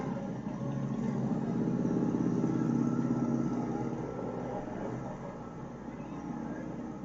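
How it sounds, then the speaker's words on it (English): Harley-Davidson motorcycles ride figure eights in a rodeo parade, their engines a steady, fairly loud rumble that swells and then eases slightly as they pass. "Some figure eights and some, I'm not sure what they call it, but awesome on their Harleys."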